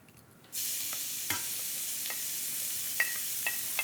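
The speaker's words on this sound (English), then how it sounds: "I want to get my vegetables sautéed, so a little bit of olive oil" Olive oil heats in a pan for sautéing vegetables, a steady bright sizzle that jumps in suddenly and holds, with a few faint clicks of a utensil against the pan.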